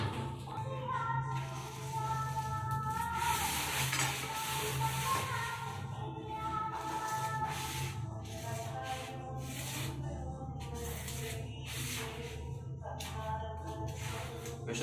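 A thermocol sheet being cut for a homemade incubator, heard as steady scraping and rubbing strokes that continue through the whole stretch, close and fairly loud, with a few faint background tones.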